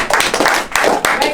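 Audience members at a high school motivational talk clap in short bursts, near and uneven, with distinct separate claps in a small group rather than a full roaring applause.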